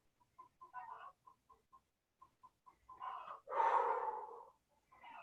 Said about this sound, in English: When our chickens lay eggs, they get really excited and they let you know about it.